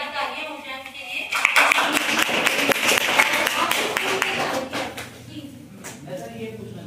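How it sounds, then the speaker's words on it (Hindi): An audience at a TB awareness gathering in Mohakampur claps for a visiting doctor, a dense burst of many hands building and then thinning out, with talk running underneath. "एक बार जोरदार तालियां हो जाए उनके लिए।"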